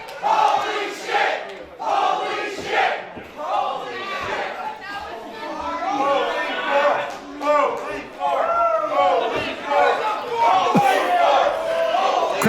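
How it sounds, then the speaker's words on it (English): A wrestling crowd at a live indoor event chants loudly in rhythmic bursts. The chant rises and falls with a dense, echoing mass of voices that fills the whole stretch. "Crowd now chanting, "Holy fork.""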